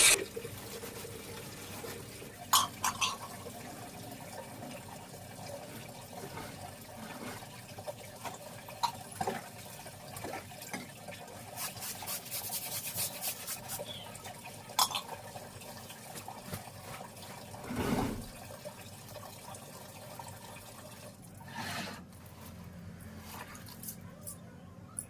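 A plastic sheet is rinsed by hand with water at home, giving uneven splashing, swishing and dripping that comes and goes through the clip, with a few louder wet bursts near the end.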